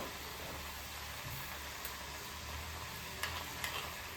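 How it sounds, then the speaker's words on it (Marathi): Foxtail millet masala shankarpali frying in hot oil, a steady broadband sizzle with faint stirring clicks, continuous and close, no talking. "आपण तेल छान गरम करून या तयार करतोय"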